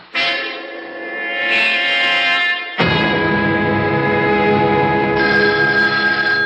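A loud telephone bell rings in two long bursts, ringing out with a metallic, slightly echoing tone and no voices.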